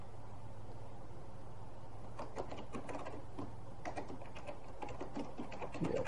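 Typing on a computer keyboard while setting up a Debian LTSP server: quiet clustered key clicks in short bursts over a steady hum of computer fans, close and soft, with no talking.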